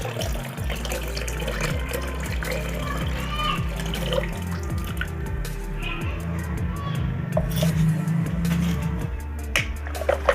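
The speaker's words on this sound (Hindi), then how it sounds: "और अब इसको हम इसमें डाल देते हैं" Dissolved SMB (sodium metabisulfite) solution in clean water poured into a container during gold recovery from BGA chips and processors, a steady continuous splashing pour that runs throughout, fairly close and moderately loud.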